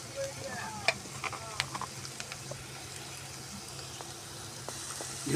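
Chopped green chilli and onion fry in a pan, giving a steady soft sizzle broken by a few sharp clicks and scrapes from stirring, close up with no talking.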